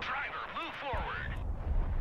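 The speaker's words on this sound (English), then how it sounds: "Engaging targets with direct fire!" Gunfire and explosions rumble in the military video game Broken Arrow, a deep low boom building toward the end. A radio-style voice speaks over it.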